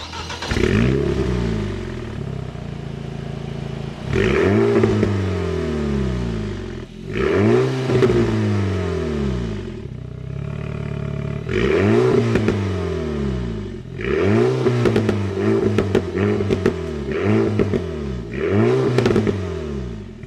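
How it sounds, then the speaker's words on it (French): A car engine starts and revs repeatedly with a mic placed close by, each loud rising rev falling back with crackling pops and burbles, several bursts separated by brief idle pauses. "On a une petite sonorité sympa, les petits pétaradages, les petits retours au rétrogradage"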